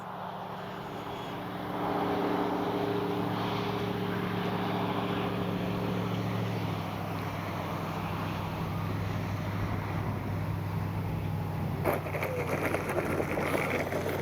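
An E-flite 90mm Viper RC ducted-fan jet on a touch and go gives a steady whooshing roar that holds for the whole stretch, with a tonal whine fading partway through and gusty wind noise on the microphone.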